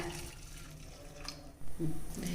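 Water runs and splashes as jaggery is dissolved for kozhukkattai in a home kitchen, a faint trickle that swells into a louder, steadier pour near the end.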